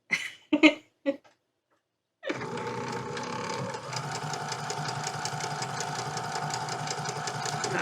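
A sewing machine stitching cotton fabric, starting after a few short taps and then running steadily with a fast, even mechanical rattle, close and continuous.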